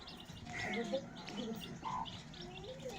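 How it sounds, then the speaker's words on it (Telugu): Faint, high chirps from about forty chicken chicks with a hen peep intermittently over a low, murmuring background, soft and somewhat distant. "నలభై పిల్లలు ఉన్నాయి ఫ్రెండ్స్"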